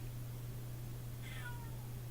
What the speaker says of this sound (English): She is my 19-year-old cat. And she is being very talkative today